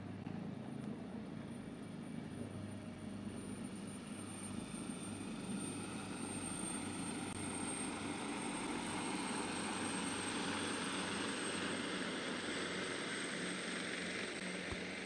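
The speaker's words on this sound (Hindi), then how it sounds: "एयरफोर्स का ऑगस्टा वेस्टलैंड 139 हेलीकॉप्टर" An Air Force AgustaWestland AW139 helicopter passes over a Pakistan Day military parade, heard as a steady, broad rotor and engine roar that holds loud and constant throughout with no speech.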